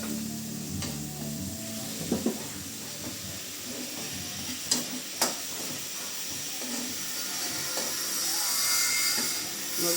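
Garlic frying in a pan as it is stirred, a soft steady sizzle and hiss with a few scraping clicks of the utensil, close and without talk.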